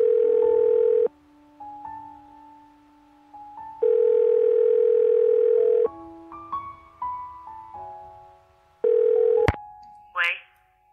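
A phone call rings out unanswered, a steady ringback tone in long repeating bursts with pauses between them, while people talk faintly in the gaps.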